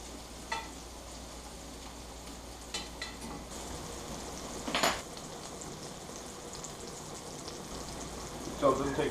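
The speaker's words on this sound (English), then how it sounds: "got that bacon grease ready to go, so we'll toss those in there." Bear's head mushrooms fry in bacon grease with a soft, steady sizzle, broken by a few clinks and scrapes of a utensil against the pan, including a louder scrape partway through.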